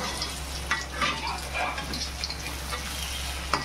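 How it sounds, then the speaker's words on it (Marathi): River fish frying in a pan over medium gas, giving a steady, even sizzle and crackle throughout with a couple of faint clicks. "हे सगळं मच्छी तळून घ्यायचं आहे"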